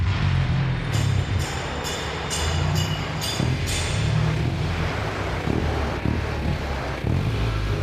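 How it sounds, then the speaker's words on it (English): A van's exhaust roars loudly nearby in a street in Criciúma, southern Santa Catarina, with a deep rumbling drone and a run of sharp bursts early on, continuous throughout. "Look at the van's exhaust, man."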